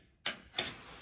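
Two sharp relay clicks from the high beam circuit of a 1970 GMC as it is grounded, the pair spaced about a third of a second apart, close and crisp against near silence.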